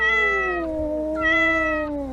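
A shelter cat gives two close, clear meows in quick succession, each a drawn-out, falling cry, with nothing else around them.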